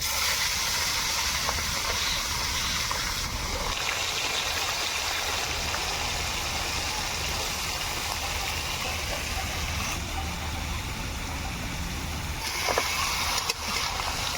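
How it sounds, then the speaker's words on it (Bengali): Washed mutton dropped into hot oil tempered with asafoetida and whole dry spices for a Bengali mutton curry, giving a loud, steady hiss of sizzling that runs the whole time with no talk. "এবার এর মধ্যে আমি ধুয়ে রাখা মটনটা দিয়ে দেবো।"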